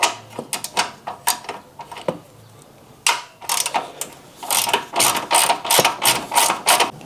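A ratchet loosening 10 mm bolts on the washer reservoir of a Honda Civic EG hatchback: bursts of quick metallic clicking up close, with short pauses and some clunks of the tool against the bolts.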